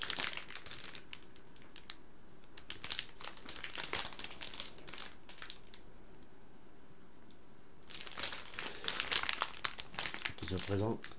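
Plastic packaging crinkling and rustling close up as a PC motherboard is unboxed, in irregular bursts with a quieter stretch in the middle, while someone talks in French.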